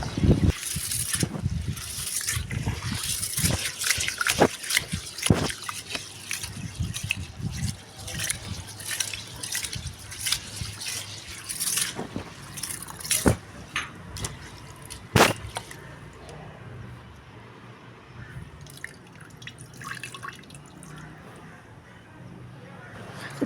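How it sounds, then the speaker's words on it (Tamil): Ration-shop rice for black urad dal idli is washed and kneaded by hand in water in a bowl, giving close, irregular squishing, sloshing and dripping sounds, some sharp splashes, while someone talks over much of it. "ஒரு 5 தடவை இந்த மாதிரி தண்ணி கொஞ்சம் கொஞ்சமாக ஊற்றி நல்லா பிசைஞ்சு க்ளீன் பண்ணிக்கிட்டோம்னா தண்ணி நல்லா வெள்ளையாகும்"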